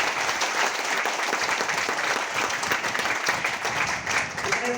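Strong, continuous applause fills a hall as an audience claps steadily at a motivational event, even and sustained with no pause.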